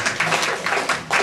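Scattered clapping from a school drama audience voting on a character's fate, uneven bursts of hand claps close by, short and loose with no steady rhythm.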